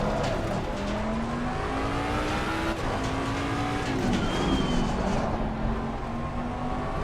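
GT3 Mustang race car in a racing video game braking hard with ABS engaged, a steady engine note dropping and stepping through downshifts under continuous road and tyre noise, close and fairly loud with no talking.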